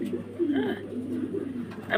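Pigeons coo softly and steadily in low, throaty murmurs against a faint background hum.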